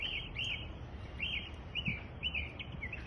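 Northern mockingbird singing in a neighborhood, short clusters of sweet warbled notes repeated at intervals, moderately distant, above a constant background hum of traffic.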